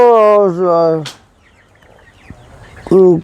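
Chickens on a poultry farm give loud, close clucking calls in two bursts, one at the start and one at the end, with a quieter stretch between.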